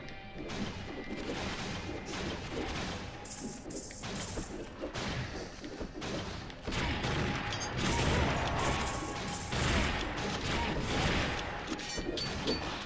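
Rifle shots and crashing impacts from a video game firefight sound continuously and fairly loudly throughout, a busy clatter of gunfire with no clear pauses or talk.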